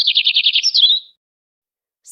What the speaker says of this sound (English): This is a sparrow.